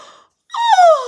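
A reader's voice imitates a tortoise's yawn, a long drawn-out wavering moan that falls in pitch after a short breathy sound and a pause, close and loud.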